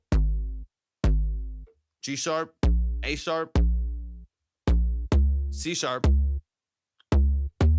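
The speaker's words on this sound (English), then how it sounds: "This isn't an 808, it's a synth bass" Deep synth bass notes pulse one after another, loud and close, while a voice speaks briefly between some of them.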